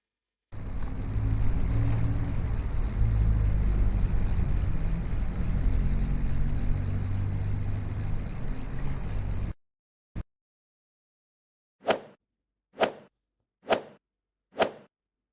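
A city bus driving past, a steady broadband rumble of engine and road noise held for about nine seconds, then cut off abruptly and followed by a few sharp separate swishes.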